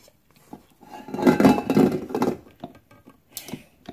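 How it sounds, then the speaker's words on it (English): A spatula scrapes the sides and bottom of a mixing bowl of chocolate chip cookie dough, a burst of scraping and clinking in the middle, then scattered lighter taps and scrapes. "I make sure that I scrape the sides of the bowl"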